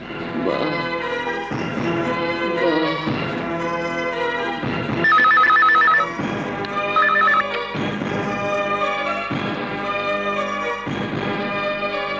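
A telephone rings repeatedly with a bright electronic tone, about every one and a half seconds, clear and alone with no talking.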